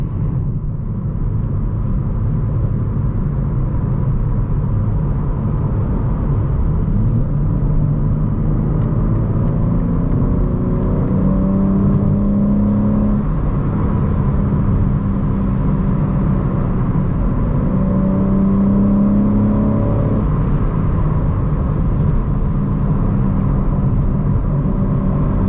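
A BMW M3 fitted with an IRL midpipe and AA downpipes drones steadily from inside the car while it drives on the road. A deep exhaust rumble rises and falls with throttle, loud and continuous.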